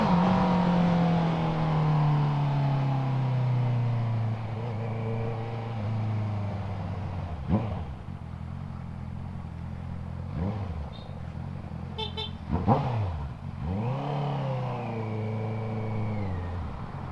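A Honda CB650R E-Clutch motorcycle fitted with an Akrapovic exhaust idles with a deep, full growl, then is revved in several sharp blips that rise and fall, loud and close.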